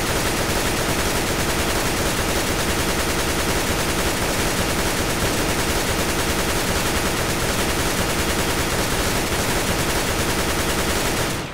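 Sustained automatic rifle fire punching through a wall at the B site of de_dust2 in CS:GO, a dense, loud, continuous rattle of shots running steadily from start to finish with no pauses or voices.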